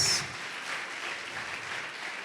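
A church congregation applauding during a Portuguese-language worship service, a steady wash of many hands clapping at moderate level that carries on after a brief opening sound.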